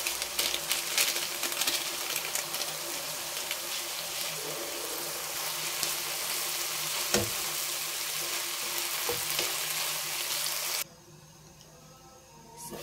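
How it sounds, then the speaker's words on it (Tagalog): Water with banana blossoms heating in a cooking pot, giving a steady broadband sizzling, bubbling hiss throughout with a few clinks, then dropping abruptly to near quiet near the end. "Lagyan muna natin guys ng kaunting tubig at pakuluin."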